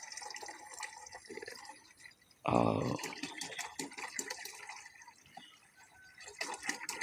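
Coconut water being poured for homemade organic fertilizer gives a short splashing burst of liquid midway, set against steady background noise and occasional voices nearby.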